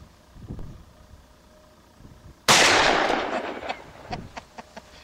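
One loud, sharp gunshot from a hammer-cocked firearm fired outdoors in Kansas, close by, with a brief decaying echo after a quiet stretch of faint rustling and small knocks.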